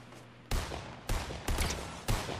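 Gunfire from several different players in a shooting video game: four sharp bursts about half a second apart over a low background hum, fairly quiet, with no voices.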